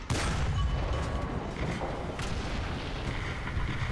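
A heavy anti-tank round slams into a Panzer IV in War Thunder, a deep booming impact followed by a sustained low rumble that fills the scene at steady loudness.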